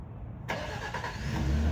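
A Nissan Frontier pickup engine cranks and catches after a remote start, settling into a steady close idle alone, with no talk.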